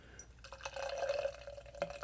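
Beer, a Belgian-style triple ale, pours hard into a 20 ounce mug, a steady close liquid rush with splashy gurgles building a foamy head, no one talking.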